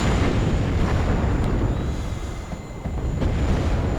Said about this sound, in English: he bombs my Fallschirmjägerführer and gets the point